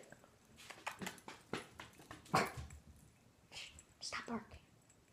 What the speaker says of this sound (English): Stop barking.